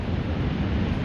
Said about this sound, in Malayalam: അത്രയും നല്ല വെള്ളച്ചാട്ടം